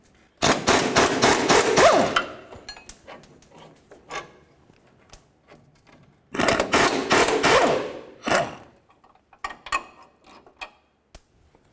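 Two rapid bursts of metal hammering on a steering idler arm bar of a 1999-2007 Chevy Silverado, each a quick run of sharp ringing blows, with scattered lighter taps and clinks between them.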